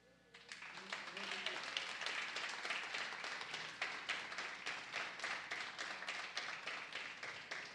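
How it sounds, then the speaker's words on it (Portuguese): A church congregation breaks into sustained applause, dense clapping from many hands that swells quickly and continues steadily, with some voices mixed in under the clapping. "Então vamos aplaudir todos os poimen que estão aqui hoje."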